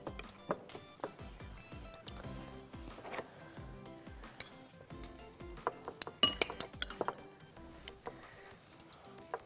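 Potatoes being mashed with butter in a dish, heard as repeated clinks and taps of a utensil against the dish with some soft scraping, close and irregular, without any speech.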